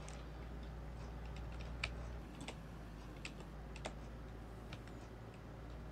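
Computer keyboard keys tapped to steer in Farming Simulator 19, a steady run of light, close clicks with a few sharper taps over a constant low game hum.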